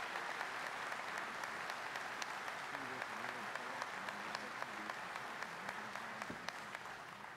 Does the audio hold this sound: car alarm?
no